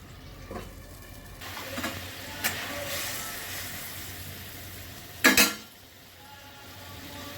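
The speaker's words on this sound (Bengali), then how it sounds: "ঝোলটা একটু ফুটবে।" Mustard gravy for hilsa fish simmers in a pan with a low, steady bubbling hiss, broken by a few soft utensil knocks and a louder scraping clatter near the end.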